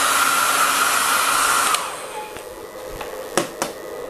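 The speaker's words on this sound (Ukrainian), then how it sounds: "включився вентилятор." A loud whooshing power inverter cooling fan runs steadily close by, then cuts down to a quieter hum, with a couple of sharp clicks near the end.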